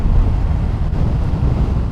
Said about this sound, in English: It is quite windy as well.